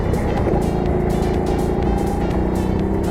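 A kart engine drones steadily as it laps a track in a local final race, loud and close, with a constant buzzing tone and slight pitch wavering through the corners.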